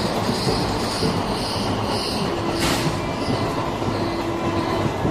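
Indian Railways passenger train running steadily, with a continuous close rumble and rhythmic clickety-clack of wheels on rails and faint wheel squeal, no talking.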